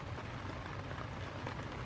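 Rain falls outdoors as a steady, faint, even hiss throughout, with no voices and no other distinct sounds.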